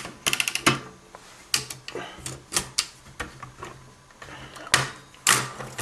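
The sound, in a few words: removing platen from 1947 Remington No. 17 typewriter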